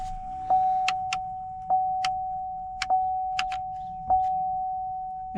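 A 1998-2007 Chevrolet Silverado's ignition is switched on with a key: a steady electronic chime tone runs throughout, broken by a series of sharp clicks and ticks spaced irregularly, all close by and with no talking.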